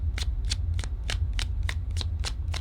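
A deck of tarot cards is shuffled in a steady rhythm of about eight crisp riffling bursts, close and clear, over a low constant hum and with no talking.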